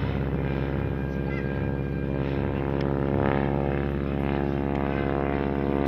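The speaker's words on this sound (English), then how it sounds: "climbing for altitude using that 450 horsepower Pratt & Whitney and varying the pitch" A biplane's 450-horsepower Pratt & Whitney radial engine drones loud and steady as the aircraft climbs for altitude on a hot day, its propeller pitch shifting slightly, with no voices over the continuous roar.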